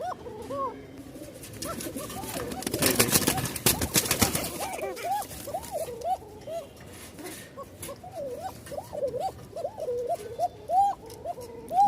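Pigeons at a farm keep up a thin, frightened call, a string of short rising-falling notes repeating through the second half, with a burst of broadband rustling and scuffing near the start.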